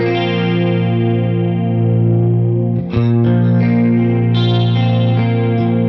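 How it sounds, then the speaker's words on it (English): Electric guitar played through the analog chorus of a Boss Katana amp's DC-30 effect, sustained shimmering chords ringing steadily, with a brief dip and a fresh strum near three seconds, loud and alone without talk. "you can hear it does sound like an analog chorus"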